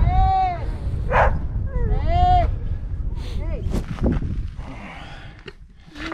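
Dogs bark repeatedly along a roadside while cycling through southern Armenia, with loud, close yelps and whimpers in bursts over wind noise and people talking.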